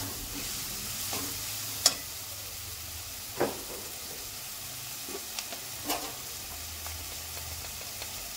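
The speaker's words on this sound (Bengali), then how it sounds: "তো সব মশলা একসঙ্গে মিক্স করে নিচ্ছি" Spices for a fish curry, including coriander powder and black pepper, fry and get stirred in a pan: a low steady sizzle punctuated by several sharp scraping clinks of the spoon against the pan.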